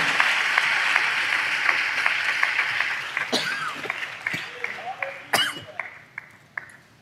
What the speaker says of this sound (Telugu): ఆ కృపకు చప్పట్లు కొడుతూ స్తోత్రాలు చెప్దాం.